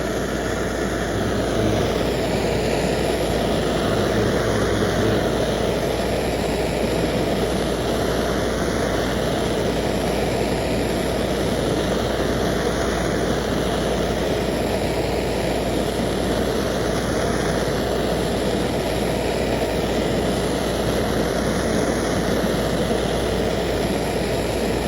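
A Harbor Freight propane torch burns at full bore with a loud, steady, unbroken roar that lasts throughout, close by and with no speech.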